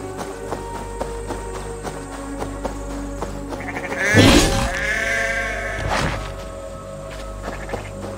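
A sheep bleats in Assassin's Creed Valhalla, with one loud, wavering cry near the middle and a shorter bleat soon after, heard over steady game ambience with no talking.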